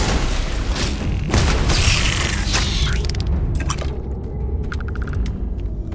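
A weapon firing in the space game Starfield: a heavy, booming blast with a watery, swooshing energy texture, followed by a few short crackling bursts as it fades.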